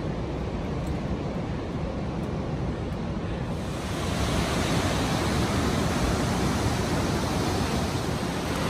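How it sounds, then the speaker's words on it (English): Steady broadband rushing of a river flowing below a mountain road on the Annapurna Circuit in Nepal, loud and continuous with no pauses, swelling slightly partway through. "the river's rushing away down below us there"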